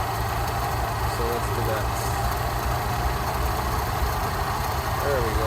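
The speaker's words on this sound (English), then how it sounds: "I need to readjust now to have a slightly higher idle speed." A Rolls Royce Silver Shadow engine idles steadily with a low, even rumble while its carburettors are tuned, and someone speaks briefly over it near the start.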